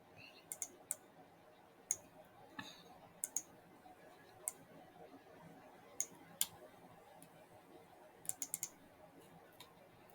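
A computer mouse clicks while clips are selected in editing software: sparse, sharp single and double clicks spaced irregularly over a quiet, faint background.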